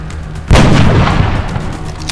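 A single loud gunshot in the XCOM: Enemy Within video game, a sharp close blast with a booming tail that decays over a second and a half.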